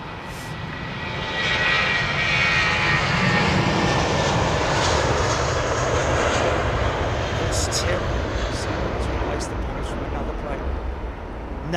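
Airliner engines at London Heathrow Airport spool up into a loud, steady, sustained roar with a rising whine, while people talk faintly nearby over the noise.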